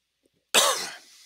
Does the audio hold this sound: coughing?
yes